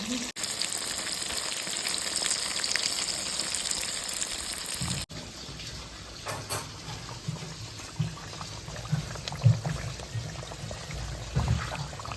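Food fries in a pan with a steady crackling sizzle, followed by softer sizzling broken by occasional spatters and clinks; no voices.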